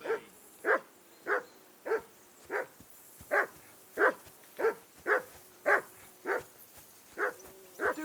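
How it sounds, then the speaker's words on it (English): A dog in the medieval world of Kingdom Come: Deliverance 2 barks again and again in a steady, insistent rhythm, about a dozen sharp, clear barks spaced under a second apart, close by and with no speech over them. "Call that dog, Henry. Who the hell can listen to that?"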